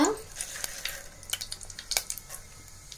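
Mustard seeds and cumin crackle in hot oil in a pot, a quiet, close sizzle dotted with sharp little pops and occasional stirring scrapes.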